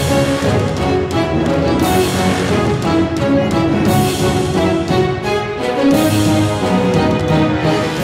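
A full orchestral arrangement plays with drums, strings and brass together, a dense sustained ensemble sound that holds steady at high volume throughout with no speech.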